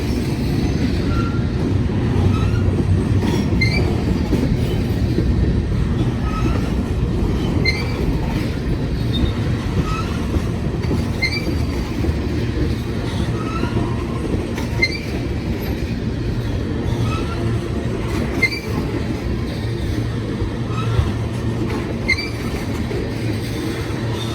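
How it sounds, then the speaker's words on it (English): A long CSX freight train with ethanol tank cars rolls steadily past nearby, a continuous rumble with rhythmic clacking of wheels over rail joints and occasional metallic squeals. "this is a long train here"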